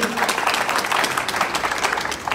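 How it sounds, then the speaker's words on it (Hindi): A seated audience at a business family event gives a speaker a burst of applause, dense clapping from many hands that stays loud and even for the short stretch. "तो सर के लिए एक बार जबरदस्त तालियां होनी चाहिए"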